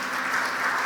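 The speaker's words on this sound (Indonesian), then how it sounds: "Ini tepuk tangan buat Allah kita." Church congregation applauding God, a brief, loud, continuous burst of many hands clapping together at a steady level.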